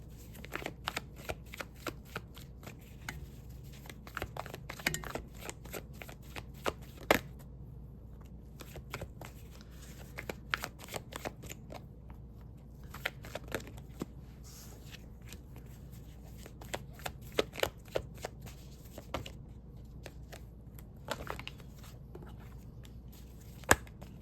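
Tarot cards are shuffled continuously at close range in a quiet room, with a steady run of soft riffling and sharper card snaps recurring throughout.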